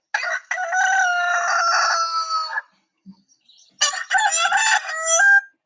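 A rooster crows twice, each call a loud, close, drawn-out cock-a-doodle-doo separated by a second of silence.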